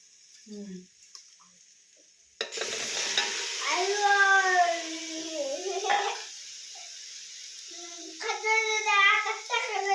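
Mutton and masala hit a hot pan and are stirred, starting a sudden close, steady sizzle and frying crackle after a quiet opening, with someone talking over the cooking.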